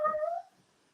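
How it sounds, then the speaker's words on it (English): A dog gives a single short, high whine that fades quickly, faint and heard at a distance. "oh, that's a dog."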